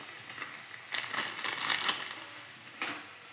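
Semolina being fried in a pan with turmeric, salt and spices for jhal suji, giving a close, steady crackling sizzle that swells briefly in the middle.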